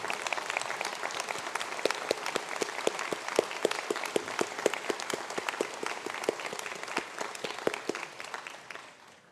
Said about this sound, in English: Can I ask all the graduates from Quantity Surveying to please stand up for a round of applause?